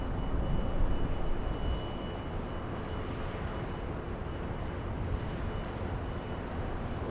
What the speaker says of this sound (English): Okay, that A380 on final.